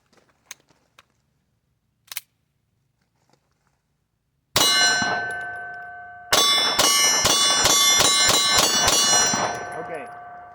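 A SIG P365 X pistol fires its 12-round magazine. After a few faint handling clicks comes one sharp shot, then a quick run of about eight loud, close reports with ringing tails.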